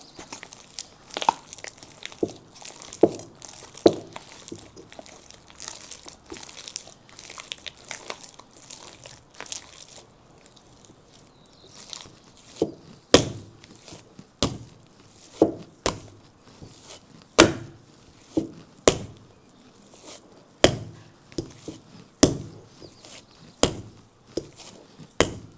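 Soft dough worked with butter by hand for khachapuri, a run of irregular sticky slaps, squelches and presses, some sharper and louder, close up with no talk.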